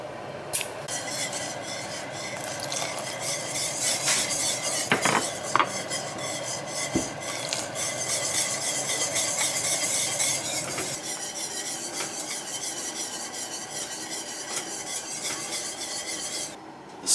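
Rum vanilla sauce thickened with cornstarch is stirred steadily as it cools, a continuous close scraping and rubbing of utensil against pot with no talk.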